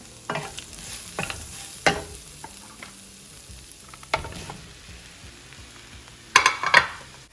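Boiled potatoes stirred into spices frying in a pan, with intermittent scraping strokes of a spoon over a soft sizzle and a louder clatter near the end, close and without talk.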